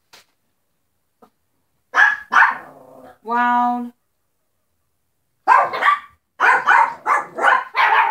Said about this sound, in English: My dogs are carrying on. They hear dogs outside.